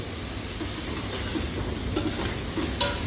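Chopped onion and tomato sizzle in a hot pan for a meat sauté, giving a steady, even hiss with faint crackles close by.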